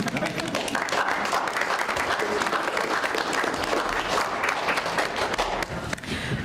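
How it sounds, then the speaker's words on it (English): Applause at a school board of trustees meeting, a steady dense wash of many hands clapping in a room, holding level for the whole stretch before thinning slightly at the end. "Can I clap now?"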